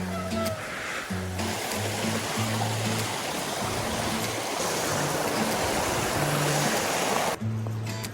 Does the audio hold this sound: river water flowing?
yes